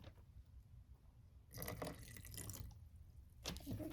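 Water trickles and drips into flour paste being mixed for paper mache, a faint close pouring sound that swells in two short bursts over a quiet background.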